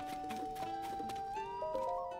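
A horse in the video game The Legend of Zelda: Tears of the Kingdom gives a soft whinny with light clip-clopping hooves, blended into sustained game music tones over about two seconds.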